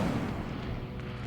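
A fire spell cast in the Hogwarts Legacy video game, a loud low rumbling whoosh of flame that holds steady through the whole short burst with no voice over it.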